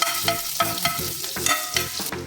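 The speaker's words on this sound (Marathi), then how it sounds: "आता आपण त्याच्यात जिरं घालूया लसूण ठेचलेला घालायचा आहे" Cumin seeds and crushed garlic sizzle in hot oil for a fenugreek-leaf bhaji, with a steady frying hiss broken by regular, close scraping strokes of a spoon stirring the pan; no voices.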